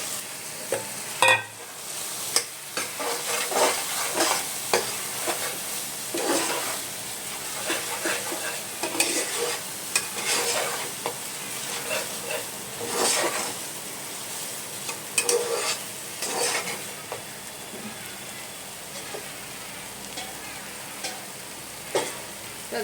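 A paste of ground melon seeds, poppy seeds and cashews frying in a pan, with a constant sizzle broken by repeated stirring and scraping strokes, close and moderately loud.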